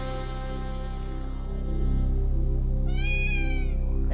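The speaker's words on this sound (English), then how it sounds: "The cat." A single high, wavering cat meow rises near the end over a steady, droning sustained tone and a low hum.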